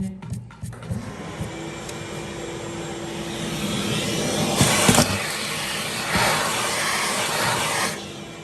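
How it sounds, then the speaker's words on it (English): A vacuum cleaner runs with a steady whining roar, rising and falling in strength with a couple of sharper surges, close by and without talk. "Vacuum in there."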